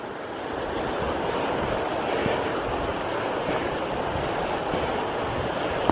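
A river flows beside a hiking track in Caples Valley, New Zealand, giving a steady, broad rushing wash that stays close and even, with no voices over it.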